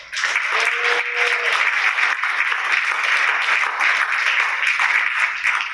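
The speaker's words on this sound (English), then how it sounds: "would you please give them a round of applause" Audience applause at a Miracle League kickoff event at a university in Memphis, a sustained, even wash of clapping from many hands that holds steady for several seconds, with a short vocal sound near the start.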